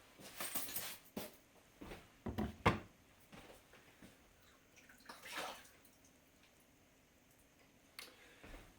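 Tap water runs over a plastic ice ball maker while it is rinsed and cleaned, giving close splashing bursts that come and go with gaps of quieter trickling.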